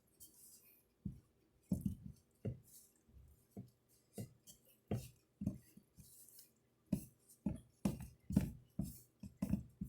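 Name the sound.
mixing cheese biscuit dough in a bowl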